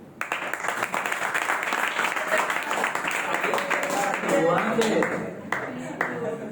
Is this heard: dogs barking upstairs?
no